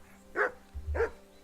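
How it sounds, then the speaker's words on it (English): Dog in Kingdom Come: Deliverance II gives two sharp, close barks about half a second apart, with a low rumble between them and no speech. "Call off that damn dog before he wolfs down the last of our mates."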